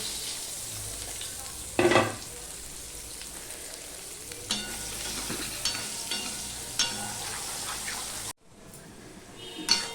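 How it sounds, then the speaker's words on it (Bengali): Thinly sliced potatoes fry in hot oil for a Bele fish curry, giving a steady close sizzle with occasional stirring scrapes and louder bursts, briefly cutting out near the end before resuming. "এবার আলুগুলোকেও আমি ভেজে নেব"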